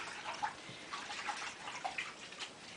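Hardanger embroidery pieces gently swished in soapy water, making faint, soft sloshing and light trickling close by.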